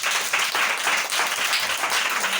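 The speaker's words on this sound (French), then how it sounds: "On l'applaudit aussi." Audience applause at a ceremony honoring a sponsor and founder, a steady wash of many hands clapping close by, filling the whole moment with no voices over it.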